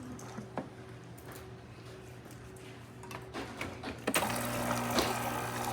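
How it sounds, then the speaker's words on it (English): A freshly serviced Gaggia espresso machine with a new board brews a shot: a steady pump hum with a thin liquid trickle and scattered clicks, growing louder and busier near the end. "nice steady stream coming out of the one. Great pressure."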